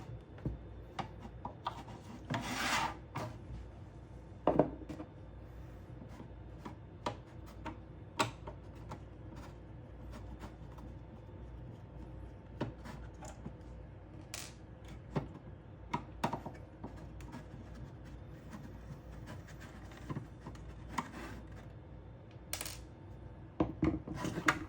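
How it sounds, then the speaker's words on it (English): Gray rubber foot strips being pried and pulled off the underside of a Eufy RoboVac base station, with sparse clicks, taps and light scraping, close and quiet over a steady low background hum. "We're now going to remove these 2 gray strips that act as feet for the base station"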